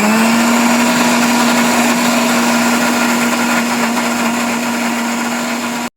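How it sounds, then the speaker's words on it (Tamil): A mixer grinder blends a ragi (finger millet) milkshake in a steady, loud, continuous motor whine that holds evenly for about six seconds before cutting off abruptly; no one speaks. "ஸோ இது நல்லா வந்து நம்ம கிரைண்ட் பண்ணி எடுத்துக்கலாம்."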